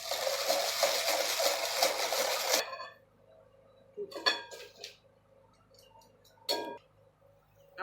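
A whisk beating oil-based vanilla cake batter in a bowl: a steady, busy scraping rattle for a few seconds, then it stops, followed by a few sharp metallic taps and clinks against the bowl.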